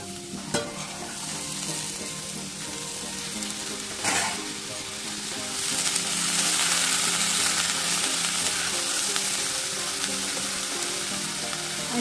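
Lentils drop into a hot pan and fry, a dense continuous sizzle with stirring scrapes that grows slightly louder midway, no talking.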